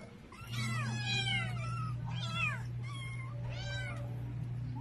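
Stray cats being fed meow several times in a row, loud and close, the calls drawn out and wailing over a steady low hum.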